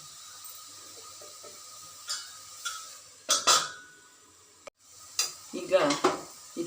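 Bread toast cooking slowly in a pan with half a teaspoon of sugar, a soft sizzle with a few clinks and scrapes of stirring against the pan, close and fairly quiet.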